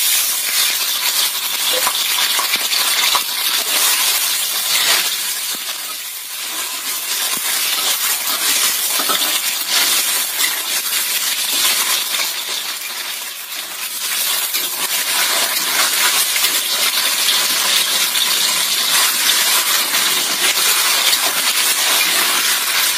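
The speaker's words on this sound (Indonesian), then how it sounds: "Kita goreng tahunya itu setengah matang dahulu." Tofu fries in a wok with only a little oil, giving a loud, steady, broadband sizzle that holds for the whole stretch and dips briefly twice as the pieces are stirred or shifted.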